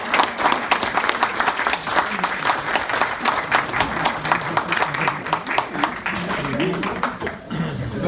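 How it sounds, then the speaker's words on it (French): At an association's annual general meeting, the audience breaks into sustained applause, many hands clapping in a loud, dense patter, with voices rising near the end as it tapers off. "Donc je vous propose de les applaudir"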